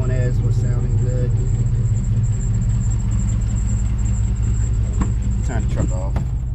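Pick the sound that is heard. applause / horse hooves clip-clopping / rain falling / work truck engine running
work truck engine running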